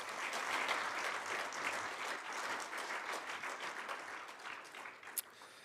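An audience at a Namibia-EU business forum gives a dense round of applause, a continuous crackling wash of many hands that holds steady for several seconds and tapers slightly toward the end.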